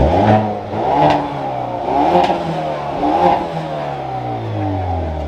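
A 2022 Hyundai Veloster N with its 2-liter engine revs repeatedly, the pitch rising and falling in several blips before settling into a sustained, loud drone with rattly exhaust character.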